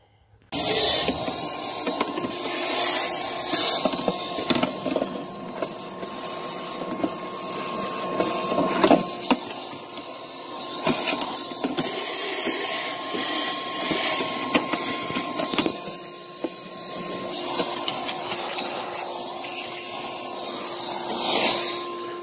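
A shop vacuum runs steadily for about twenty seconds, sucking dirt and mouse-nest debris out of the heater fan housing of an old Ford F450 pickup, with a constant drone and hiss and occasional rattles of debris.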